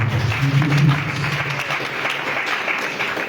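A church congregation claps and cheers in praise of Jesus Christ, a dense wash of applause with a low murmuring swell of voices early on, steady and fairly close throughout.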